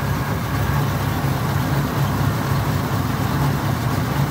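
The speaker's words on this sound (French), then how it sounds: "et un moteur qui tourne très bien." A 1966 Ford Mustang coupe with a C-code V8 idles steadily and smoothly at close range, a continuous low rumble with no talk over it.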